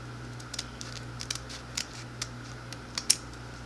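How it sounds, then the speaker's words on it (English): A series of short, crisp snips from scissors cutting deco mesh diagonally, irregularly spaced, with a louder cut near the end; quiet steady hum beneath, no talking. "take my scissors and I cut up diagonal according to the fold"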